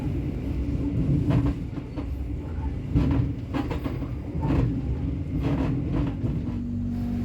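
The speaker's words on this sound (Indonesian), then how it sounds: "Beginilah suasana di kereta eksekutif 1 ya" Steady rumble and rhythmic wheel clatter inside the executive-class carriage of the Joglosemarkerto passenger train running from Solo toward Tegal, with periodic louder clacks over a continuous low hum.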